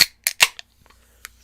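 A drink can of Citrus Twist snapped open up close: a crisp metallic pop and hiss in a couple of sharp bursts, then a brief faint fizz, with no talking.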